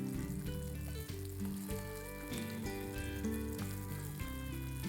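Palak shami kebabs shallow frying in desi ghee on a flat tawa, a steady soft sizzle heard up close under louder background music, no talk.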